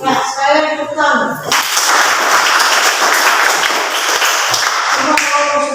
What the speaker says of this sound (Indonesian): Ya, sekali lagi tepuk tangan.